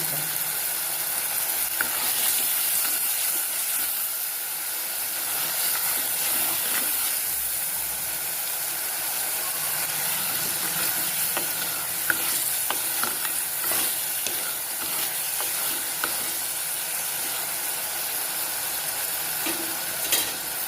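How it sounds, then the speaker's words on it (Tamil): Prawns sautéing in a pan for a prawn gravy give a constant close sizzle and hiss, with intermittent stirring scrapes and clinks throughout. "நாம் இது மாதிரி வதக்கும் போதே இந்த இறா அப்படியே சுருட்டிக்கும்"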